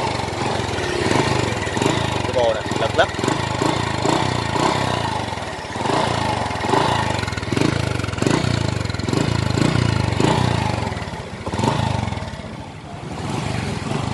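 A 2009 Honda Future Neo motorcycle engine idles and is blipped repeatedly, the throttle rising and falling in short bursts over a steady close-up engine chug, with a brief spoken remark.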